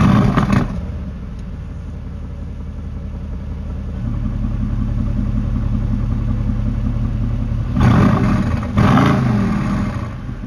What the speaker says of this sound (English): Just a really cool element when you start your car of your new AMG.